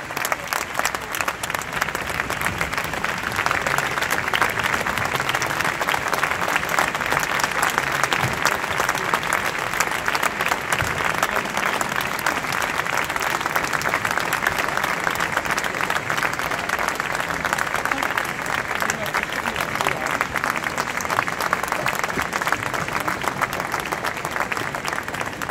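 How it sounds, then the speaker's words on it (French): A large audience applauds continuously for French President Emmanuel Macron and Kenyan President Kenyatta at a 2020 Paris event, a dense, steady wash of clapping that stays loud from start to finish. "le président de la République française, Emmanuel Macron, que je vous demande d'applaudir."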